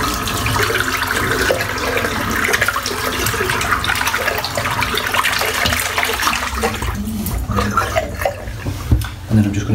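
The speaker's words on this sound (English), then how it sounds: "Just rinse the soap out." Running water from a tap rinsing shaving soap out of a shaving brush, a steady close splashing flow with some sloshing and a few clunks toward the end, no talking.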